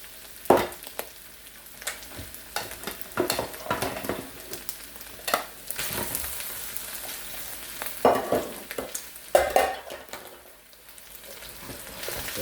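Sticky rice stir-fried in oil in a wok crackles and sizzles steadily, broken by repeated scraping and clattering strokes of the spatula, close and alone without talk.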